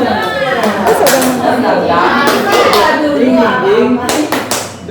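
A group claps a rhythmic cheer clap at a teachers' gathering, sharp bursts of hand claps in patterned rounds, mixed with crowd chatter and voices.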